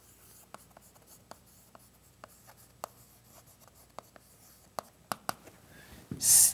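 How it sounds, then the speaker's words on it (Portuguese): Writing during a math lesson makes a series of light, close taps and short scratches, irregularly spaced and quiet, ending in a brief louder rub. "vou escrever a conclusão aqui embaixo"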